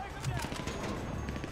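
Rapid bursts of gunfire from a hard-recoiling weapon in a GTA V shootout, quick repeated shots pulsing through a short stretch amid continuous game action noise.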